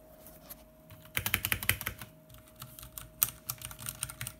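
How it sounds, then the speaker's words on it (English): Fast typing on a new compact 60% computer keyboard, a close burst of crisp key clicks followed by lighter scattered presses, with a faint steady hum underneath. "And I got my new keyboard."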